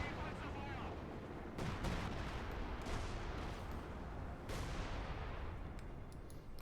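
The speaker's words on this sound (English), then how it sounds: "There you go, mortar fire here against the German positions." Mortar fire pounding German positions in the World War II strategy game Company of Heroes 2, a dense rumble of repeated booming impacts and gunfire layered continuously, loud and close.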